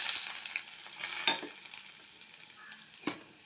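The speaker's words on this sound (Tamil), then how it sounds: "இதில் கொஞ்சம் நல்லெண்ணெய் ஊற்றி இதில் இஞ்சி நல்லா செவகிற அளவுக்கு நம்ம வதக்கிக்கணும் இஞ்சியை." Ginger sizzling and frying in sesame oil, a steady close hiss with a few soft stirring scrapes, no voices.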